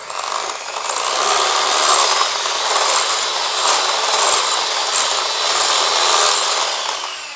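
An electric mixer whirs loudly up close, blending lemon zest into a cake mix in steady pulsing waves of high whine that last several seconds before easing off.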